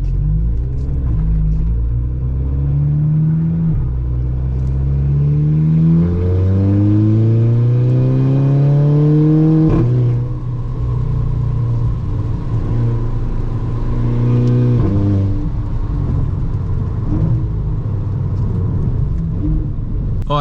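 A car engine at the Nürburgring rumbles and revs through several rising gear pulls with wheel spin, loud and close, climbing in pitch before a shift and settling into a steady drone.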